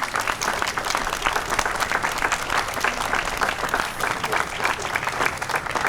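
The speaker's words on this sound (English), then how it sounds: "Please give them a round of applause." An audience applauds veterans at a Memorial Day service, dense continuous clapping from a crowd, steady and fairly loud throughout without speech.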